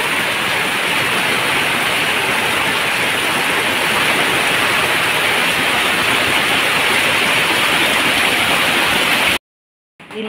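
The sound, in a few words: heavy rain and swollen river water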